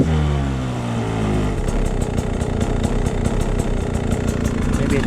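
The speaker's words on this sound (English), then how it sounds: "Turn the idle down just a hair." A Beta 250RR dirt bike fitted with a Lectron carburettor idles close up with a fast, even two-stroke patter, after a brief higher revving at the start, while a voice talks over it.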